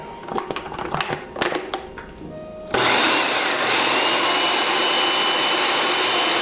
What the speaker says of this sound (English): After your dry ingredients are all in the food processor, now we're going to pulse it together.